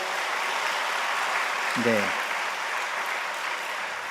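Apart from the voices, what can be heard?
church congregation applauding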